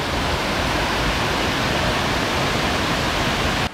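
A waterfall at Erawan National Park heard close up, a loud, steady, broadband roar of falling water that holds constant until it cuts off abruptly at the end.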